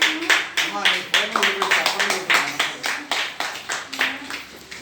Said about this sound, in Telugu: చప్పట్లు కొట్టి ప్రభుని కనపరచండి